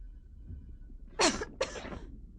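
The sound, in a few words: cough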